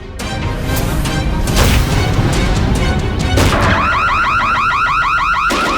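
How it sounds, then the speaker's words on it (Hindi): Heavy banging and crashing as a door is broken down, loud repeated impacts, followed by a warbling burglar alarm siren that starts up near the end. "तोड़ दो दरवाजा।"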